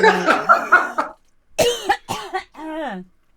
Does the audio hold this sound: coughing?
yes